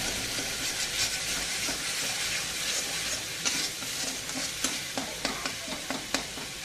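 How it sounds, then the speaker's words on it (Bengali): A spice masala sautés and sizzles in a pan, with a steady frying hiss broken by repeated scraping and stirring clicks from a utensil, close up and quiet. "এখন মশলাটা কষিয়ে নিচ্ছি।"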